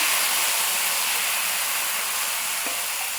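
A hot tawa sizzles before ragi rava dosa batter is poured, giving a steady, bright, close hiss that holds evenly throughout, with no voices.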